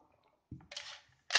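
A toy double-barrel spring shotgun loaded with rubber balls is snapped shut, giving a soft low thump and then two sharp plastic clicks, close and quiet with no talk.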